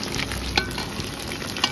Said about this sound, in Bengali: এই যে লাল লাল পকোড়া ভাজছে সোনামা